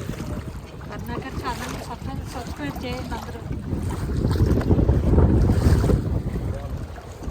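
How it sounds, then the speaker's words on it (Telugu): A boat ride on the Srisailam reservoir, with mountains around, carries loud wind buffeting and engine and water noise throughout, and people talk over the rumble. "మీరైతే శ్రీశైలం వస్తే ఖచ్చితంగా ఈ బోట్ రైడ్ చేయండి"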